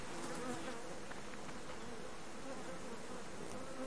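Killer bees swarming around a beehive in the video game Subsistence, a continuous dense buzzing drone that holds steady and even throughout, with no speech.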